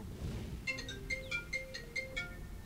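A mobile phone ringtone plays a bright, repeating electronic melody of short tonal beeps, fairly faint, against low background noise during a Godzilla video game session.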